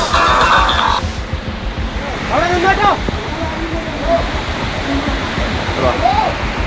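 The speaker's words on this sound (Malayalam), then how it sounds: "ആ വീടിന് ചുറ്റും വെള്ളം കുത്തിമറിഞ്ഞ് പോയിക്കൊണ്ടിരിക്കുകയാണ്." Floodwater after a landslide gushes around a house in a loud, continuous rushing roar heard nearby, with voices and calls rising over it at intervals.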